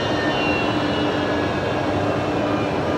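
Qantas Link Embraer jet lining up on runway 19 left at Brisbane Airport, a steady broadband engine rumble and whine holding at constant loudness throughout, with no talk.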